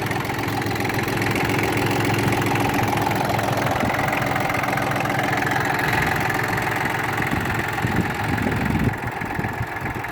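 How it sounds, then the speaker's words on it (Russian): A Yanmar F18D diesel tractor engine idles steadily up close, a low, even rumble with a faint knocking pulse running the whole time, no voices. "Двигатель работает мягко."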